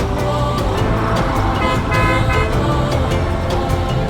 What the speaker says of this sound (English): Look at the traffic, so many cars.